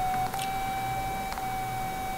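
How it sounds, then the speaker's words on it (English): A steady electronic tone from an intrusion alarm sounds continuously, with a couple of short clicks breaking in, like an alarm beeping without pause. "it keeps beeping as long as it detects the intrusion"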